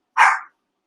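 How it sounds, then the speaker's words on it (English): Dog indoors giving a single short, sharp bark, close and loud, then silence. "Sorry, that's my dog."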